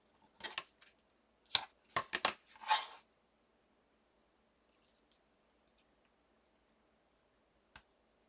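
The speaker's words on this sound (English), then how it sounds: "Scissors." Scissors snip through tape in a few quick, close, sharp cuts over about three seconds, followed by near silence and one last faint click.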